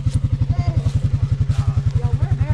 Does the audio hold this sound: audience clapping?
no